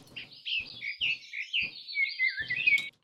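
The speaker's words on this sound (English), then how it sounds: "Just like birds singing." Continuous high, warbling bird song from a sample kit, with chirps and trills, clear and steady, over a few faint low thumps.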